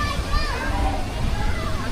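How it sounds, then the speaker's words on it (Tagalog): Resort swimming pool with water sloshing and splashing throughout, children's voices and play mixed in at a steady, moderately loud level. "swimming pool resort."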